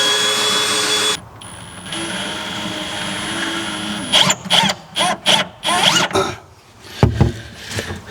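A power screwdriver whines steadily while backing screws out of the side ribs of a battery enclosure, then several short, stuttering bursts follow, close and loud.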